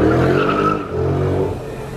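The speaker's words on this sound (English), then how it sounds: "Here's a supercar." A supercar passes through a Monaco street at night, its engine note rising and then falling as it goes by fairly close, with crowd murmur underneath.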